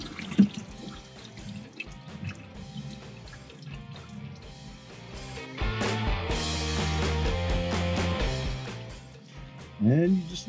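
Engine oil draining from a Ford Maverick EcoBoost, a close liquid trickle and dripping that swells into a heavier pour midway, with a person talking over it.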